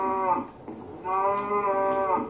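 A Minecraft cow moos twice in a drawn-out, nasal, low bellow, the second call longer than the first, close and clear with no talk.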